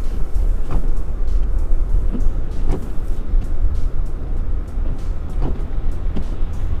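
A Honda Accord V6 driving through about a foot of snow, heard as a loud, steady low rumble of engine and road noise with recurring soft thumps and crunches, with no voices.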